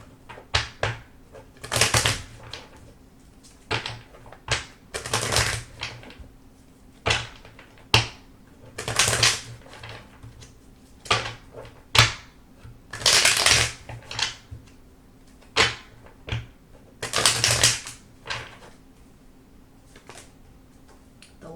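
A deck of tarot cards is shuffled by hand in repeated crisp riffling bursts with short pauses between them, close and clear with no talking.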